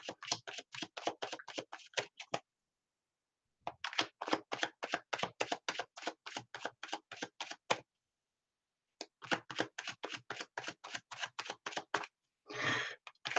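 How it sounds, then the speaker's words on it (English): Tarot cards shuffled by hand in three rapid bursts of crisp riffling clicks, close and fairly loud, separated by short pauses, with a brief soft brushing swipe at the end. "All right, Nicole, cards are shuffling. I'm shuffling right now"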